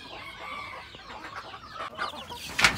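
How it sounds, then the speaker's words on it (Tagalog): Chicks kept apart from their mother hen in a breeding setup, a steady mix of soft high peeping and clucking, close and continuous, with a sharper burst of calls at the end. "Meron tayong mga hiniwalay na mga sisiw dito sa kanilang nanay."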